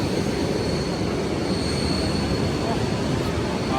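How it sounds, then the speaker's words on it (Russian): Suburban electric commuter trains run toward Odintsovo, a steady loud rumble of wheels on rails with a faint high squeal, continuous throughout, with no one speaking. "Это вот электрички в сторону Одинцова"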